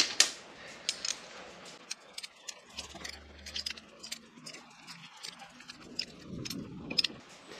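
Lock nuts being screwed down on a brake line flaring tool, a string of small metallic ticks, clicks and ratcheting scrapes up close, irregular and fairly faint, with no talking.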